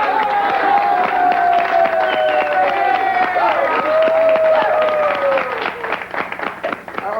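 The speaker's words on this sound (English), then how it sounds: "All right, a big round of applause." A television studio audience applauds and cheers loudly throughout, with a sustained tone and voices layered over the clapping and the crowd noise thinning near the end.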